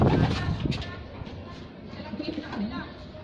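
Soft pigeon coos repeat at close range in a pigeon loft, with voices talking and some handling noise around them.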